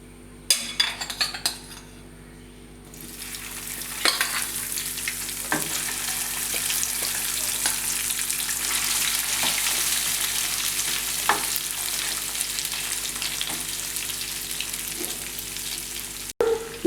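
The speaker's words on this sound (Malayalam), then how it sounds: "എണ്ണ ചൂടായതിനു ശേഷം വേവിച്ച് വെച്ച ബീഫ് അതിലേക്കിടുക" Cooked beef frying in hot coconut oil in a frying pan, a steady loud sizzle that runs throughout, with occasional clinks of a utensil against the pan and a few sharp clatters at the start and end.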